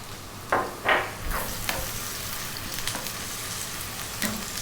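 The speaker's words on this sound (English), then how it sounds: "Now to that, we're gonna add our ginger garlic paste." Ginger garlic paste hitting a hot pan for vegan beetroot rice, a few sharp bursts at first settling into a steady, close sizzle.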